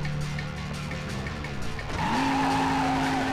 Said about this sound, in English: the car chases in this are not really that interesting